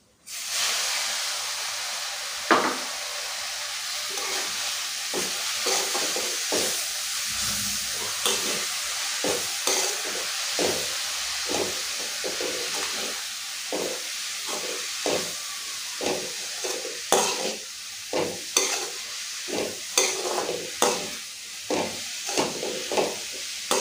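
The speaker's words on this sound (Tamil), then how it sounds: "இப்போ இது கூட நம்ம எடுத்து வச்சுருக்க புதினாவை சேர்த்துக்கலாம்" Mint leaves sautéing in a pan for mint chutney give a steady broad hiss and sizzle, with repeated short scraping stirs that grow more frequent toward the end, no voices present.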